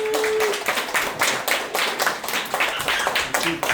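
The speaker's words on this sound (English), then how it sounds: "Let's give a round of applause to our amazing students." An audience at a Hebrew school graduation and end-of-year celebration gives the students a steady round of applause, dense clapping from many hands filling the room for several seconds.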